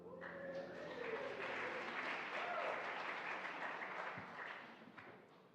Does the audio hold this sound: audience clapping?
yes